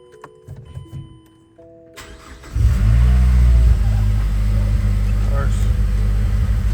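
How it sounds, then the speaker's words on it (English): Mazdaspeed 3 engine cranking and catching, then settling into a steady loud idle rumble close by; quiet clicks and faint talk come before the start. "let's turn the car on and go from there."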